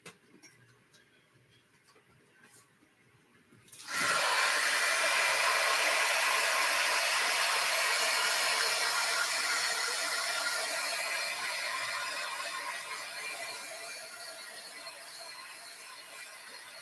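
A heat tool switches on abruptly and blows steadily to dry a junk journal page, a loud continuous whooshing hiss that holds for many seconds and then gradually softens.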